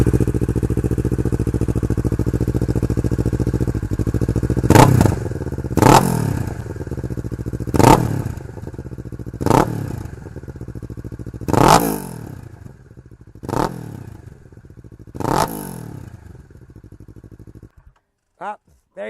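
A 2017 Kawasaki Ninja 650 fitted with an Akrapovic exhaust, silencer in, idles loudly and then is revved in about seven sharp, rising blips at a steady interval, close by, before cutting off.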